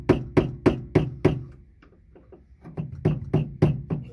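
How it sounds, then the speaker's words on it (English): Brass punch tapping the metal lock ring on a fuel tank of a 1994-2001 second-generation Dodge Ram during a fuel pump change: a run of five sharp, even metallic knocks, a short pause with softer taps, then another steady series of close, loud strikes. "if you have metal, you need a brass or wooden punch"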